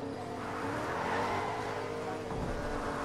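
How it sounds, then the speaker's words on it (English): In Fortnite gameplay, an engine drones and swells as a car draws nearer, a faint tire squeal flickering in the steady, mid-volume rumble. "there's a car coming towards you"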